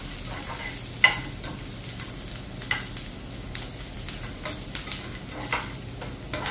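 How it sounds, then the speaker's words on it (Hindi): Onions fry on low heat in a pan, giving a soft steady sizzle with occasional sharp scraping and stirring clicks of a spoon against the pan, close and fairly quiet. "ये मेरी ऑनियन फ्राई हो रही है। ऑनियन को हमको धीमी आंच पर और ब्राउन होने तक भूनना है।"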